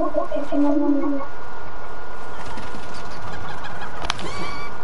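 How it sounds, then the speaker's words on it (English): A chicken in a video game gives a short burst of throaty clucks and coos in the first second, then a steady noisy game ambience follows with a brief chirp near the end. "there's a chicken in here"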